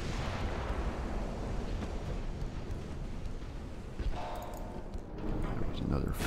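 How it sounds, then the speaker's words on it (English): Heavy 12-inch naval guns boom in a battleship naval combat game, Nassau against two Lord Nelson ships, with deep rumbling blasts rolling under dense wash and a loud thud near the end. "He's hitting me with those 12-inch guns here lately."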